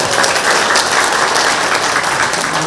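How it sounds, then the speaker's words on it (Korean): Loud, continuous applause of encouragement fills the room as the audience at an open taxi-shortage forum claps hard and evenly, with no pauses throughout. "힘찬 격려의 박수 한번 부탁드리겠습니다"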